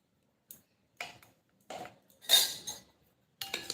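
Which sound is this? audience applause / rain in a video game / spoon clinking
spoon clinking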